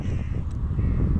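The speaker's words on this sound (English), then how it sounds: "Crows are laughing at us." Crows caw outdoors on a hill above Portsmouth, heard faintly over a loud, constant rumble of wind buffeting the recording.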